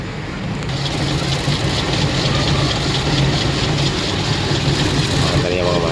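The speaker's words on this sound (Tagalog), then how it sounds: "may konting inig yung makina" A camper van engine idles just after a cold start, running slightly rough with a steady low rumble and faint uneven knock, loud and continuous, close to the engine.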